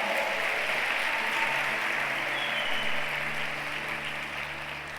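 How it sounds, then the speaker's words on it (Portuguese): Church congregation claps and cheers in praise of Jesus, a dense, sustained wash of applause from a large crowd that holds steady and then tapers slightly toward the end, with no speech over it. "Então dê uma salva de palmas para Jesus."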